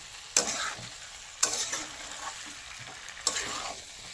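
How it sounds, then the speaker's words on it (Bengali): Cauliflower frying with spices in a pan is stirred in three distinct scraping strokes over a steady close sizzle, with no talking. "কিছুক্ষণ একটু নাড়িয়ে টাড়িয়ে নাও"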